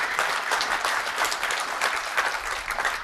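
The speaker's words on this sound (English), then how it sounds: "it's worth a clap." Dense audience applause in a conference hall during a tech keynote, even and sustained with crisp individual claps, heard on its own without talk.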